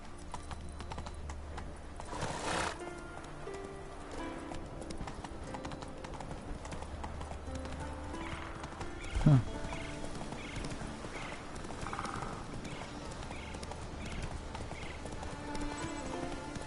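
The horse Roach gallops in The Witcher 3 game, its hooves drumming a steady clip-clop rhythm that stays close throughout. A brief whinny and some faint background clicks come through, and there is no speech.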